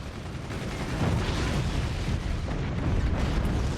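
Flak cannon fire in the Forts RTS game, a dense run of booming, explosive bursts that rumble continuously across the clip at steady loudness, with no clear gaps between shots.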